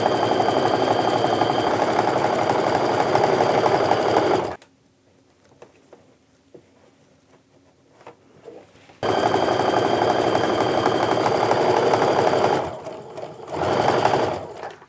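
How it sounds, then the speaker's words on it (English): Sewing machine stitching quilt pieces together for a Christmas quilt: a steady, loud mechanical whir in two bursts of about four and five seconds, separated by a quiet pause with faint handling noises. "so I'm just going to sew these together to get that set of 3 going."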